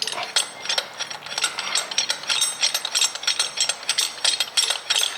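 A ratchet wrench tightens a bolt on a project assembly, its rapid clicking pawl sounding in quick repeated bursts, close and fairly loud, with no voices.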